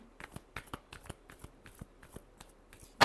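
Tarot cards are shuffled in a quick series of crisp riffling snaps and flicks, close and clear, ending with a sharper louder burst, with no talk.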